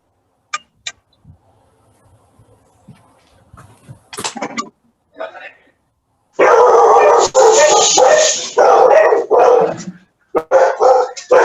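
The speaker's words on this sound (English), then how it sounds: "Whose dog is that?" A dog barks loudly and repeatedly nearby, first a few scattered yips and quieter noises, then a long run of harsh barks and howling yelps with short gaps between them.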